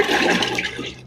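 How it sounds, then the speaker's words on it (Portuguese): Water drains out of a piped milking machine after assembly, a steady broadband rush and gurgle, fairly loud and close, tapering off at the end with no talk over it. "Então drenamos toda a água."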